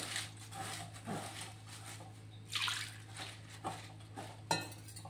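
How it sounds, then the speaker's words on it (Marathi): Flattened rice (poha) being rinsed in water in a home kitchen, with soft splashing and sloshing in a few short bursts over a steady low background hum, no talking. "तर आधी आता आपण पोहे धुवून घेणार आहोत अगदी छान असे."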